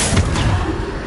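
Bombarda explosion spell cast in Hogwarts Legacy on PS5, heard as loud, booming blasts with a deep low rumble that runs through the whole short moment.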